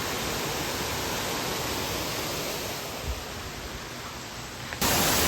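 Kambal Falls near Bulusan Volcano pours down as a steady, dense roar of rushing water, loud and unbroken throughout, with no voices over it.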